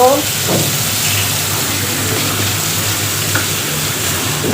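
Cubed bottle gourd added to a pan of already fried prawns with turmeric and salt, giving a loud, steady sizzle with stirring scrapes and a brief clatter at the start.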